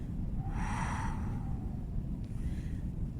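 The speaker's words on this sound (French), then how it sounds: "J'inspire lentement et à l'expire" A single slow breath, drawn in and let out during a meditation session, rises softly over a steady low rumble of wind or ambient noise, with no talking.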